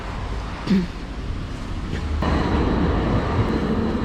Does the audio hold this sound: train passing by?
yes